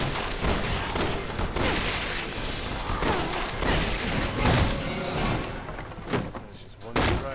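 Gunfire in the video game Resident Evil 6, repeated heavy shots and thuds in a dense, chaotic mix, with players talking and shouting throughout.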